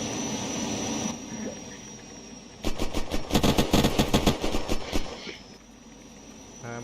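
Rapid automatic gunfire from the video game Unturned rattles in a dense burst of about two seconds, loud and close against a steady electronic background hum, with no speech.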